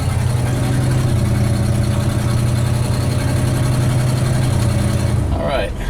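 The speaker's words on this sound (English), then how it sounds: "engine sounds good" A 1969 Ford F-250 pickup engine runs steadily with a deep, throbbing low rumble and an exhaust needing work, loud and close, fading slightly at the very end.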